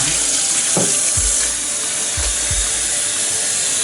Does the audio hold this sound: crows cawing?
no